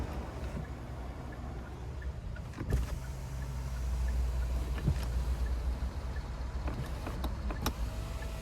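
Electric rear window sunshades on a 2020 Genesis G90 whir steadily as they move, a low motor hum carrying through the cabin with a few soft clicks and thumps along the way.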